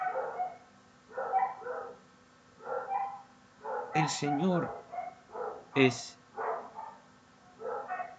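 Dogs barking in repeated bursts nearby, with a few sharper, louder yelps, while someone speaks in Spanish over them.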